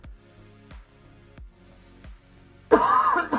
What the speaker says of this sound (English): This persistent cough is becoming rather irksome.